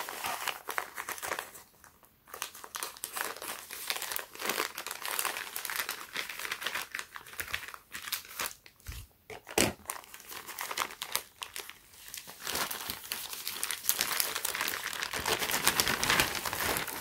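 A packaged Supreme tee is unwrapped and cut open, giving close, sustained crinkling and crumpling of plastic packaging with bursts of tearing and rustling and brief pauses, and no talk.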